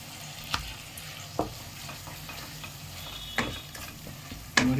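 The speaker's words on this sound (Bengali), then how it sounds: "দিয়ে দিলাম টমেটো কুচি" Chopped tomato frying in a pan, a soft continuous sizzle broken by a few sharp stirring knocks and scrapes of a utensil against the pan.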